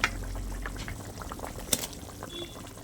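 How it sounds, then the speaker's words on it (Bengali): Katla fish curry broth bubbling at a steady simmer in a pot, a soft continuous burble with small pops and one brief louder clink partway through, close and fairly quiet. "আমার মাছের ঝোলটা ফুটে গেছে"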